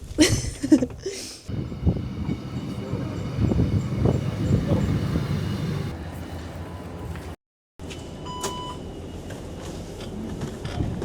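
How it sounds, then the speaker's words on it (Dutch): Inside a moving train bound for Groningen in the Netherlands, a steady rumble and rattle of the carriage runs throughout, with a brief dropout and a few faint beeps near the end, and no speech. "ik zit in de trein naar Groningen"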